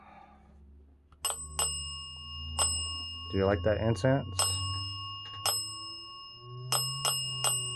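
A small bell rings near a haunted satanic angel statue, giving several sharp, bright dings spaced unevenly across the stretch. Each ding rings out briefly, and a voice speaks in the middle.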